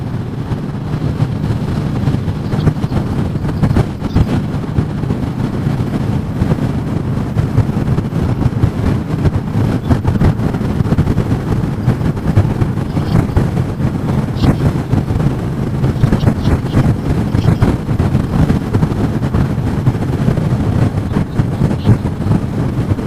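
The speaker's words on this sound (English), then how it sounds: "the wind started." Strong wind roaring over a rider on a Royal Enfield Bullet 500 motorcycle crossing the North Pennines, a steady loud buffeting rumble with engine drone that holds throughout, with no talking.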